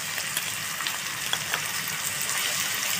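Flat beans and ginger frying in oil for a village-style green chilli curry produce a constant close sizzle with scattered pops and light crackles, without any voices.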